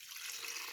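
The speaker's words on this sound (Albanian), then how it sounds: "Do t'i shtojmë 1 litër ujë." Water pours into a pot of soaked beans, a brief steady rushing splash, close and fairly soft, with no voices.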